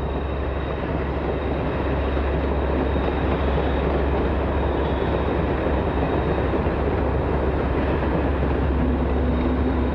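A train on the Alps line through the mountains nearing Lus-la-Croix-Haute station, a steady loud rumble of wheels and carriages rolling continuously throughout, close and without voices.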